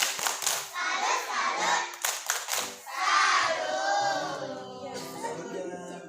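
Kindergarten children at a school event perform a rhythmic salute clap, bursts of patterned hand claps mixed with the children chanting and shouting together.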